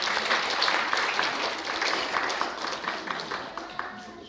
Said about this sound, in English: Let's have a round of applause for Giles and Randy.